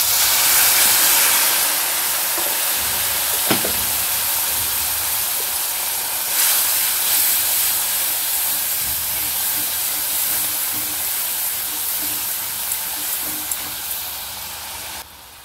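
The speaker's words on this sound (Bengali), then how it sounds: "এবারে এর মধ্যে দিয়ে দেব সামান্য একটু জল।" Water splashed into spice paste frying for a Bengali cauliflower roast, giving a loud, sustained hiss of sizzling steam that runs steadily throughout and eases slightly near the end.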